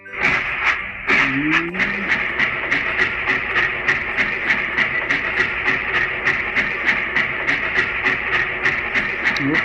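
A train in a railway construction video game rolls toward the depot with a steady, fast rhythmic clatter, regular beats repeating loudly throughout, with a brief whistle-like tone near the start.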